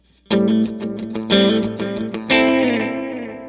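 Guitar notes played through a delay set to 16ths, with a splash of spring reverb, repeat in quick echoing pulses. A loud chord near the end rings out into a shimmering, washy tail.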